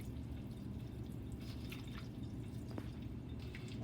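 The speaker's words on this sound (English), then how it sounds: "There's going to be a little bit of whey, but we're going to drain that." Whey drains from homemade cheese curds in a mold, a faint, continuous trickle with a few soft drips over a low background hum.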